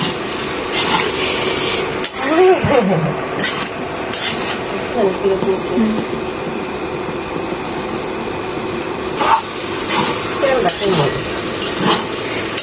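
Pasta is stirred in a pan on a home stove, with steady scraping and soft sizzling throughout, a few sharper utensil knocks, and a faint voice in the background.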